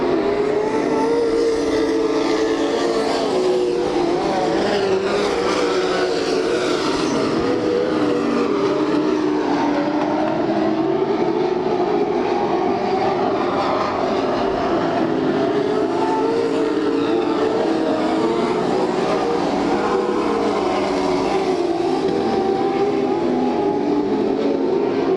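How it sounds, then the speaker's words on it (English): Race cars at a 1995 Bakersfield, California short-track racing series event drone loudly and continuously as several engines roar around the track, heard from a distance with no talk. "Hilton with a lot of RPM off turn 2."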